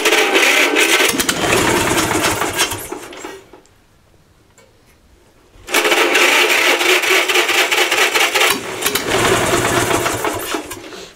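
An old Wisconsin THD two-cylinder engine chugs steadily after a cold start with a rapid, uneven mechanical rhythm, drops almost silent for a couple of seconds, then roars back up loudly and keeps running.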